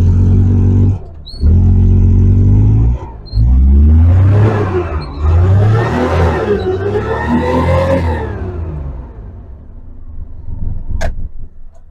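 A Maruti Omni van engine cranks with brief starter bursts, catches, then revs up and down in rising and falling surges before settling toward idle, loud and close.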